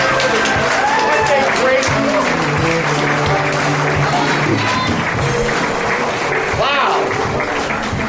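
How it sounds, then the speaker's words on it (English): Audience applause for comedian Lou Costello at a vaudeville-style comedy show, a steady, dense wash of clapping that runs throughout while someone speaks over it. "Give him a big round of applause."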